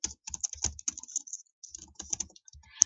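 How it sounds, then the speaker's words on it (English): Someone types a comment into Google Classroom on a computer keyboard, with quick clusters of close, light key clicks broken by a short pause. "I could type."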